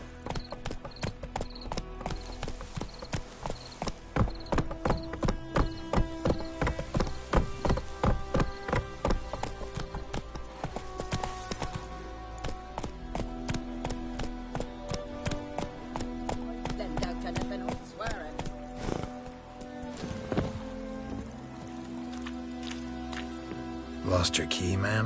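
Geralt's horse Roach gallops in The Witcher 3, rhythmic clip-clop hoofbeats pounding steadily in the foreground with a brief whinny and speech passing over the game's audio.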